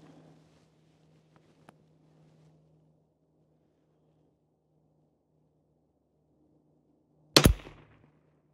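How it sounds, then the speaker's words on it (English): A single sharp, loud crack from a Rim X rimfire rifle firing Eley Edge ammunition comes late in a long stretch of near-silence, followed by a brief decaying echo outdoors. "I'm gonna take my handy dandy Rim X, I'm shooting Ely Edge, and I'm gonna shoot 5 shots"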